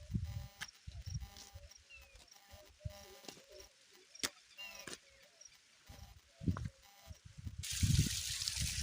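A small seasonal waterfall on a river in summer, with water trickling and splashing steadily in the background, birds chirping over it, and a louder gush of water near the end.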